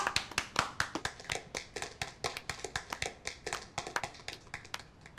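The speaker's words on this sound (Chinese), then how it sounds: "鼓掌。" A small group claps hands nearby in a steady, fairly quick run of sharp, distinct claps, with no talking, during a meeting of a fraud gang in a comedy drama.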